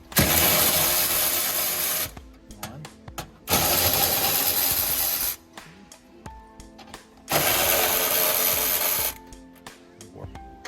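A power tool with a 10 mm socket unbolts a Toyota Prius hybrid battery pack in three loud, close whirring bursts of about two seconds each. Quieter clicks and handling noises fall between the bursts.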